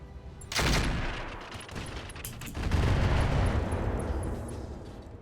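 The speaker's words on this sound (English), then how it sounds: "Okay, another ammo explosion." In the MechWarrior video game, an ammunition explosion bursts loudly, then heavy autocannon fire and a rumbling blast sustain a dense, roaring barrage with no talk.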